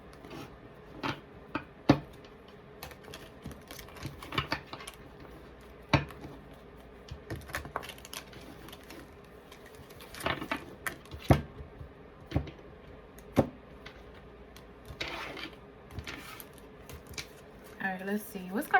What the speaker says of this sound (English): I kind of need to shuffle these, so give me a second.